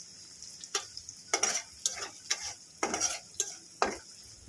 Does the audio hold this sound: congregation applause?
no